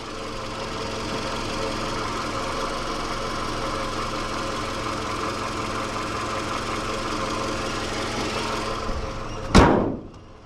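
A 2008 Toyota RAV4's 2.4 liter engine idles with a steady, even hum and faint knock, and a door slams shut near the end.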